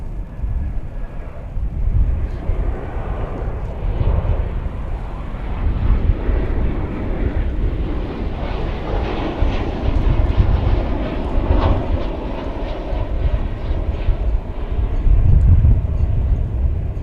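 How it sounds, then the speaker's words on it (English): An American Airlines Boeing 737-800 comes in to land at DFW airport on a sunny day, its jet engines producing a loud, sustained rumbling roar with wind buffeting throughout. "We have an American Airlines 737-800 coming in from Puerto Vallarta, Mexico."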